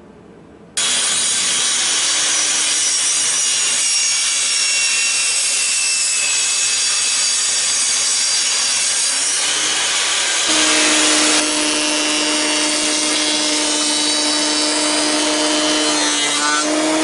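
Steady hand or machine sawing through old growth southern yellow pine, a continuous close rasping cut lasting most of the stretch, changing pitch partway through as the blade bites deeper.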